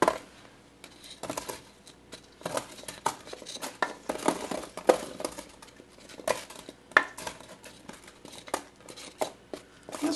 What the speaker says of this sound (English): we're going to take our sheet pan and layer the vegetables out on top of the grains